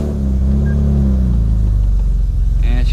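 A car engine idles loud and close with a steady low rumble after starting, its tone shifting slightly near the end as it settles.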